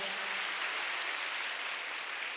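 An audience at a stage show claps together in a steady wash of applause, even and sustained throughout, with no voices over it.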